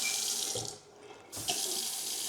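Water runs steadily from a bathroom vanity sink faucet, a loud continuous hiss that briefly drops off for about half a second, as if the flow is interrupted, then resumes at full strength.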